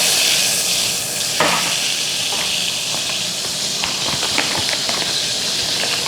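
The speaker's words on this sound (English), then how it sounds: "Butter in the pan." Butter melting and sizzling in a pan at the start of a simple mustard sauce, a continuous close hiss and fizz with light scraping and stirring clicks, no voices.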